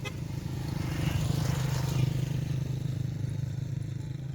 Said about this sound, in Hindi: ये ज़रा मोटरसाइकिल गुजर जाए तो फिर मैं बताता हूँ।